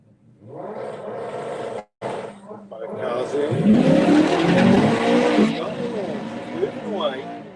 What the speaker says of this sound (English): Let's see what he can get with the 20 valve turbo caddy.